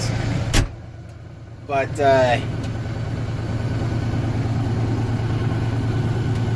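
A Tier 4 diesel engine on an LSXR4145C tractor idles with a low, steady rumble, briefly interrupted by a sharp click and a short burst of voice near the start.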